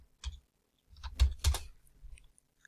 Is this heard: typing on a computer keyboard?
yes